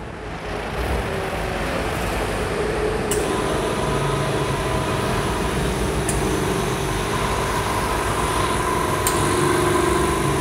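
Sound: Dekton DK59 140-liter oil-free air compressor starting up

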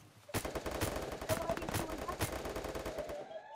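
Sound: gunfire from a new gun in a video game

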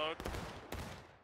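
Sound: musket volley fire in video game War of Rights

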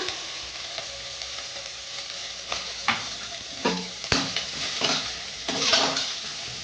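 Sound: stirring green chilli and chopped onion frying in pan

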